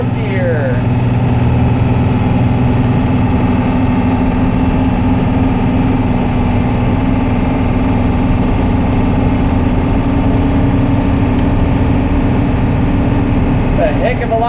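A Blue Bird school bus engine pulls in fourth gear after a transmission repair, a loud, steady low drone from inside the cab that runs throughout, with a voice over it.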